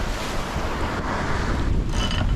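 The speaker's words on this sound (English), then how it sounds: "We suddenly had 26 knots of wind, so I'm pulling in the gennaker again." Strong gusting wind of about 26 knots buffets the microphone over rushing waves and hull wash aboard a sailboat under gennaker, off the Scottish coast between Rùm and Oban. The roar is loud and steady throughout.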